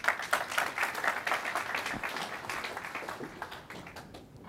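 A conference audience applauds as the World Bank's chief economist is welcomed on stage. Dense clapping starts loud and sustained, then gradually thins and fades toward the end.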